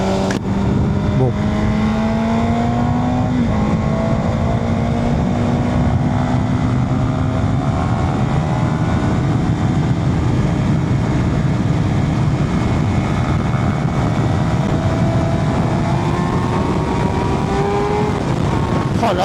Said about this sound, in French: quand on est dessus, on entend bien le son du moteur. Un très beau son.